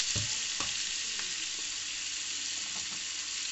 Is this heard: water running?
no